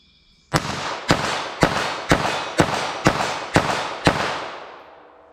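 .380 ACP pistol fires eight quick, loud shots at a steady pace of roughly two per second, each crack ringing out into an outdoor range, with a tail that fades after the last round.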